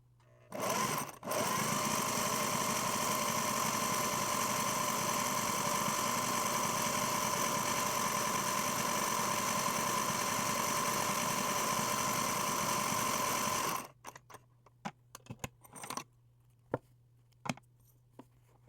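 A vintage Singer 403A sewing machine running a decorative ribbon stitch with its original cam, a loud, steady, close mechanical whir lasting about thirteen seconds before stopping, followed by scattered clicks and handling noises.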